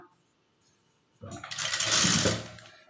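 A sewing machine starts up after a second of near silence and runs a short burst, stitching three blouse fabric pieces together with a half-inch seam, close and fairly loud.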